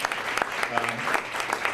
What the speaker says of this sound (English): can I get you all to applaud my nephews Jordan and Marshall for the music they provided